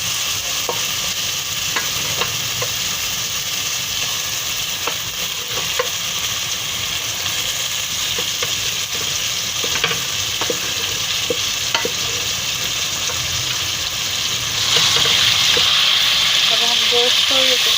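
Beef sizzles and fries with mashed tomatoes and spices for karahi, a steady, close crackling hiss throughout, punctuated by light scraping clicks of stirring that grow slightly louder near the end.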